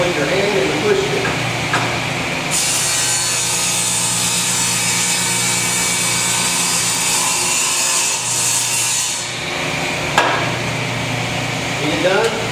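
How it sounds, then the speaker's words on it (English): A table saw runs steadily as a piece of wood is pushed along the fence through the blade, a loud continuous whining buzz with a raised high-pitched cut in the middle, while a person talks over it. "And that's how you saw a piece of wood using this table saw and the fence."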